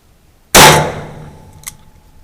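A single sharp shot from a Ruger 22/45 Mach III pistol at target practice, loud and close, with a short decaying ring and a faint metallic clink afterward.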